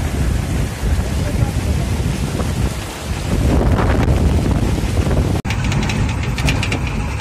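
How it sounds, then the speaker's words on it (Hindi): An icy Himalayan meltwater stream rushes near Kutti village on the way to Adi Kailash, a loud, continuous broadband roar mixed with wind buffeting the microphone. "हिमालय से पानी आ रहा है बह के"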